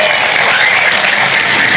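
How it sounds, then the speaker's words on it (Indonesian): Audience applauding for a sub-district head at a Quran study gathering, a dense steady wash of clapping from a crowd, loud and continuous throughout. "tepuk tangan dulu buat Pak Camat"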